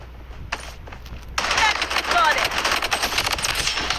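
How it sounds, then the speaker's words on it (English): An automated turret in a video game opening fire, a rapid rattling burst that kicks in after about a second and a half of quieter game ambience and keeps going, with faint voices underneath. "Turret activated."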